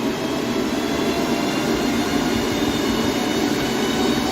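An ICERIVER AL3 crypto miner runs continuously, giving a dense, steady whirring hum of cooling fans that stays even throughout with no voices.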